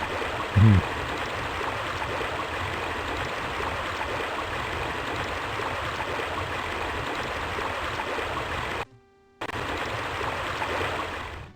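Loud, steady rushing of flowing water from the video game Normality fills the scene without a break, apart from one short cutout near the end.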